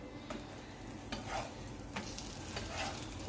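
Parotta frying on a hot griddle, a continuous loud sizzle with a few brief stirring scrapes and bursts of crackle, close up and without any talk.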